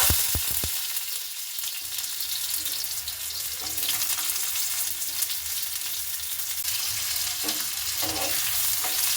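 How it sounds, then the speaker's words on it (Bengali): Potato pieces frying in hot oil seasoned with nigella seeds for a vegetarian cauliflower-stalk chorchori, a loud, continuous close-up sizzle with a few light clinks from stirring at the start. "সবার আগে একটু আলুগুলো ভেজে নেব"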